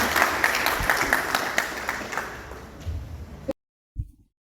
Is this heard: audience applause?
yes